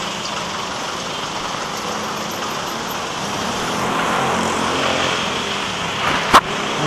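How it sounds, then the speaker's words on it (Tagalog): Steady road traffic heard from a motorcycle moving through congested streets, a continuous broadband wash of engines and tyres that swells slightly near the end, ending in a brief sharp knock. "Ang traffic pala dito."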